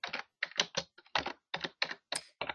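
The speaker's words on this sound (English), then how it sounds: "I can hear you typing away furiously" Rapid, furious typing on a computer keyboard, a quick irregular run of close key clatters in bursts, with no voices.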